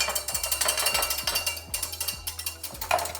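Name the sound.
whisking mustard salad dressing in a bowl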